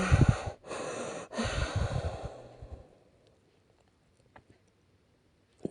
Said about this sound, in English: Not a cricket, not a bird. Just heavy breathing.